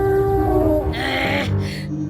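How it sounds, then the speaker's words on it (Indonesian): Cartoon dinosaur mother calling: a loud, bleating, wavering cry sounds up close, rising and breaking into a second shorter call, alone without talk. "Ini adalah suara dinosaurus."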